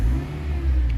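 A car engine fitted with an ignition coil booster gives a brief, close, throaty rev with a steady low hum that swells slightly, lasting about a second.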